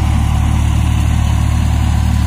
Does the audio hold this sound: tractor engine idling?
yes